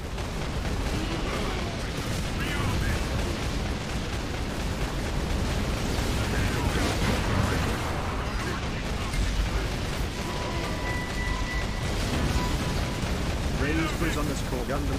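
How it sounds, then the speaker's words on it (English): Continuous rapid heavy autocannon fire in the Space Marine video game rattles and booms for the whole stretch, dense and loud, with mechanical clatter and game effects mixed in. "Auto cannon time."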